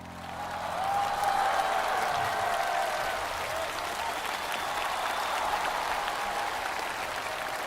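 An audience at a televised singing show applauds after a song, a sustained, steady round of clapping that swells early and holds evenly to the end.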